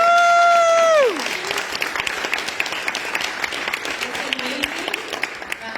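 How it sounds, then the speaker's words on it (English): At a get-out-the-vote political meeting in Texas, a crowd breaks into applause right after a short tone, steady clapping with scattered sharp claps continuing for several seconds. "if we could give them a round of applause right now for what they're doing"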